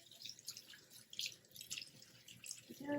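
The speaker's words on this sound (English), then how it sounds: "we're going to wash our hands after that" Faint tap water runs into a sink during handwashing, a soft uneven trickling and dripping that stays quiet and close throughout.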